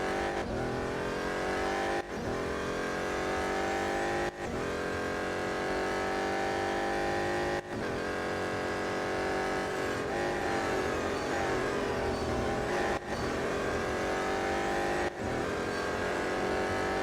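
A BMW M Hybrid V8 race car in the Real Racing 3 mobile game roars steadily through an endurance race, engine note rising and dropping with gear shifts and brief lifts, loud and continuous with no talking.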